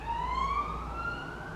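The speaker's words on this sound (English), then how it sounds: "Siren going by." A single siren passes by, its tone sliding gradually upward in a smooth sustained wail, moderately distant over low traffic rumble.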